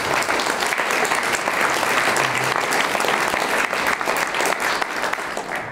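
An audience applauds after a poem at a poetry reading, a dense, steady wash of many hands clapping that holds evenly throughout and tapers slightly at the end.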